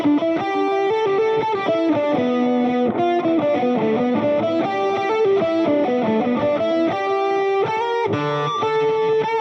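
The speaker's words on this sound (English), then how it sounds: "so that's with the transistor tape delay on" Distorted electric guitar played through an HX Stomp with a transistor tape delay, a continuous run of sustained, repeating notes with echoing tails, loud and up close and with no talking.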